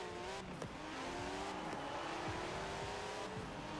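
Custom rally car in a racing video game, its engine droning steadily with rising and falling rev tones and faint tire noise throughout, fairly loud with no talking.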